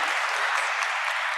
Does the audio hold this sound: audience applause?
yes